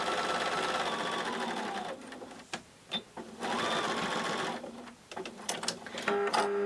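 A sewing machine stitches a seam on a fabric change purse, running forward, pausing, then stitching back in short whirring, rattling bursts, close and clear, with a brief spoken phrase near the end.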